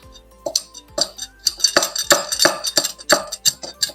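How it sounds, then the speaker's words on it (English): Quick irregular knife taps chopping parsley on a cutting board, clicking sharply several times per second, close up with no talking. "So I'm just going to start chopping up some parsley."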